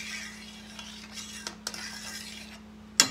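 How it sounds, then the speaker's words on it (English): Spoon circling through a jello mixture in a bowl for a strawberry fridge pie, soft scraping swirls with a faint steady hum, ending in a couple of sharp clinks against the dish. "Take my spoon and go around it one more time here."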